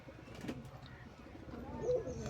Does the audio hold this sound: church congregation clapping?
no